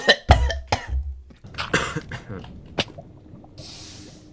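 A person coughs and clears their throat close to the microphone during a Minecraft session, a burst of a few harsh coughs at the start followed by rustling and breathy vocal sounds, ending in a short hiss.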